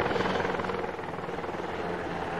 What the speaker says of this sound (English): I hear chopper to the north.